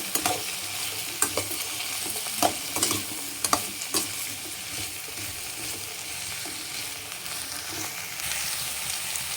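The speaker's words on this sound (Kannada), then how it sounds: "ಎಣ್ಣೆ ಹಾಕಿ ಹಾಗಲಕಾಯಿನ ಫ್ರೈ ಮಾಡೋದ್ರಿಂದ ಬೇಗ ರೋಸ್ಟ್ ಆಗುತ್ತೆ. ಒಂದ್ಸತಿ ಇದನ್ನ ಚೆನ್ನಾಗಿ ಮಿಕ್ಸ್ ಮಾಡ್ತಾ ಇದ್ದೀನಿ." Bitter gourd fries in oil with a steady broad sizzle, while a utensil stirs it in irregular scraping knocks and clacks against the pan, close and alone without any voices.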